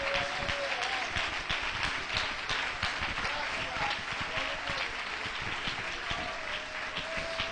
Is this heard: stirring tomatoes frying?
no